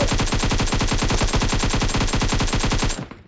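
Rapid automatic gunfire from a squad-versus-squad match in the Free Fire video game, a loud, steady burst of evenly spaced shots lasting about three seconds before cutting off.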